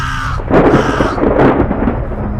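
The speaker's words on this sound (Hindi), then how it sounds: "ऊपर आसमान में काले बादल गरज रहे थे।" Deep thunder rumbles across dark storm clouds in a night graveyard scene of a horror tale, a rolling burst that swells briefly and then fades, loud and close with no voices.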